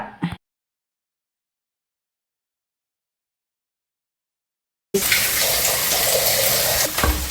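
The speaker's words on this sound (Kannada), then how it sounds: "ಒಂದು ಕಪ್ಪ ನೀರು ಹಾಕಿ ಹೀಗೆ ಮಿಕ್ಸ್ ಮಾಡಿ" A cup of water is poured into a pot of Gowda-style chicken curry (koli saaru): a brief sound, a long silence, then a loud, continuous splashing gush to the end.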